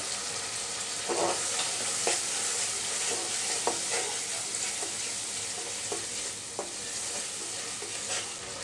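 Half of a large tomato hits a hot pan for an egg and lentil curry, giving a steady loud sizzle throughout with several sharp stirring scrapes and clicks spaced across it, no voices.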